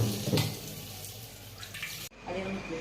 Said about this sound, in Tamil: ஃபஸ்ட் தண்ணி ஊற்றி க்ளீன் பண்ணி கீழே ஊற்றிடுவேன்